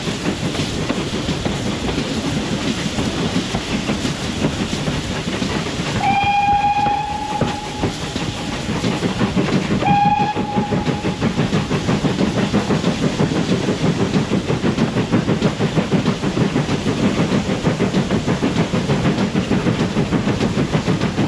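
A locomotive-hauled heritage train pulling away from Gwili station on the Gwili Railway, with steady rumbling wheel clatter and rail noise throughout, broken by two sharp horn or whistle blasts partway through, no voices.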